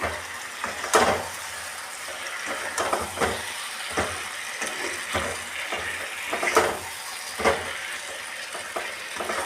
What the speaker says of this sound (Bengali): এবারে এটা দিয়ে আস্তে আস্তে এটাকে নাড়তে থাকবো